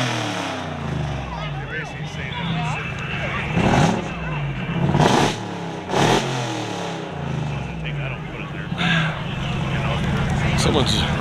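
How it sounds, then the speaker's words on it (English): A car engine revs in several sharp bursts through loud exhaust pipes at a rat rod and hot rod car show, with people talking and a steady idle rumble underneath. "Someone's revving the pipes over here."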